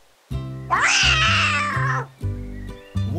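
Cartoon lynx in a forest setting screaming in a series of loud, harmonic meowing yowls, one long rising cry followed by shorter bursts, close and clear with no talking.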